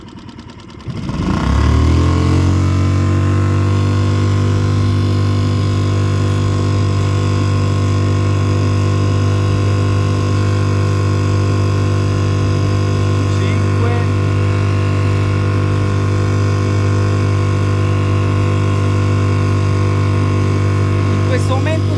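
A 3.5 hp Mercury outboard motor on a boat with a hydrofoil drones loudly and continuously at full throttle after a brief quiet start, its low hum holding a constant pitch throughout with no talking.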